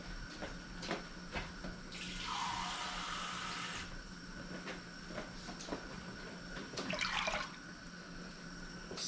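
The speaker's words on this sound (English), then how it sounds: "Then I'm gonna take this and put a half a cup of water." Half a cup of water is poured into a cooking pot for stuffed bell peppers. A close, splashing stream runs for about two seconds, a second short pour follows later, and light kitchen knocks sound around it.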